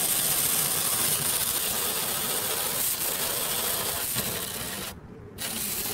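A wind-up toy car runs along a plastic track, giving off a steady, dense whirring and rattling of clockwork gears that is loud and close, stops briefly near the end, then resumes.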